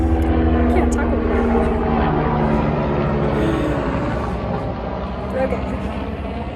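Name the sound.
helicopter flying overhead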